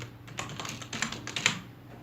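Close, light keyboard typing, a brisk cluster of small clicks in an even patter over a faint low hum, no voices.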